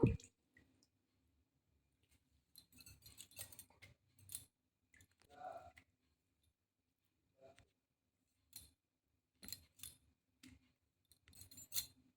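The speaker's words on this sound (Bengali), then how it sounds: "এবার এগুলো জল আমি এইভাবে হাত দিয়ে চিপড়ে নেব।" Soaked lentil dumplings are squeezed by hand to press out the water, giving faint, scattered squelches and drips with long quiet gaps between them.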